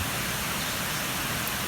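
Steady rain falls at a campground near Gatlinburg, an unbroken hiss of drops that stays at an even level throughout.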